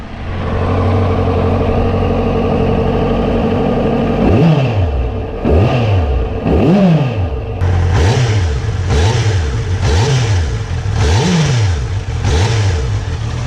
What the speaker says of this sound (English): Now I'll make you hear the exhaust sound.